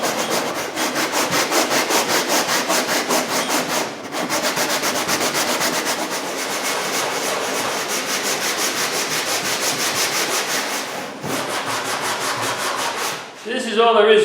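A handheld scrub brush works foam off a surface, giving steady continuous rubbing and scraping strokes in a close, loud rhythm with brief pauses between passes.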